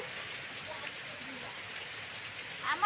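Rain falling during a hailstorm in Jajpur district, a steady, moderately quiet hiss of drops on surfaces that continues evenly throughout.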